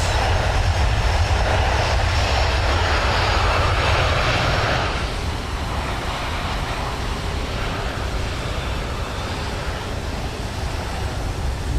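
Boeing 727 jet engines roar loud and close as the thrust reversers deploy on landing in Microsoft Flight Simulator 2020, a broad, steady rush that eases a little partway through and then holds at a lower level.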